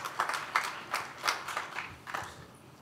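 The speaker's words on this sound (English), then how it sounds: "You can clap anytime you want." An audience at the AMA House of Delegates claps in a short burst of applause, uneven handclaps rising and fading over a few seconds with no voices over them.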